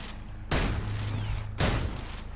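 Two loud shotgun blasts in Metal Gear Solid 3 Delta, about a second apart, each a sharp, booming report with a short decaying tail.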